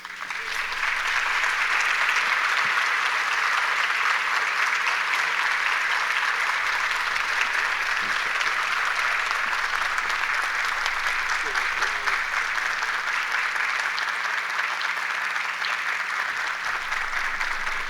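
Sustained, dense applause fills the hall at a national literature prize ceremony honoring Efraín Castillo, winner of the Premio Nacional de Literatura 2025, a steady roar of clapping from the audience that continues for many seconds.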